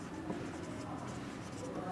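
Chalk or marker writing on a board during a math lesson, faint scratchy strokes under a low room murmur, with a short tap early on.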